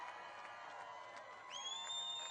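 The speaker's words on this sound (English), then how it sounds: "This is a big crowd." Crowd at a Donald Trump campaign rally in Mosinee, Wisconsin cheering and roaring at a distance, a sustained wash of voices with a whistle rising over it in the second half.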